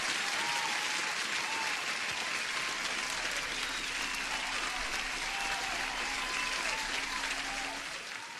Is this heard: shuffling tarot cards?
no